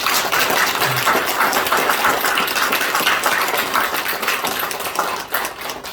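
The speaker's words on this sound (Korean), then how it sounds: "우리 마지막 주일 우리 하나님 앞에 영광의 박수를 드립니다" A church congregation at a Sunday worship service gives prolonged applause, a thick, even wash of many clapping hands that holds for several seconds before thinning out near the end.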